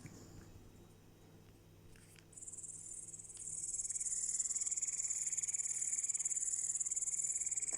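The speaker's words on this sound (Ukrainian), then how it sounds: "В цей час приємно слухати невпинне стрикотіння коників, які найчастіше провіщають сонячну погоду" Grasshoppers chirp on a hot summer day, a faint insect buzz that swells after a few seconds into a loud, steady, rapidly pulsing high chirring that continues without pause.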